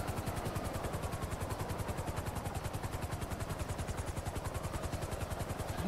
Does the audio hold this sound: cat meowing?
no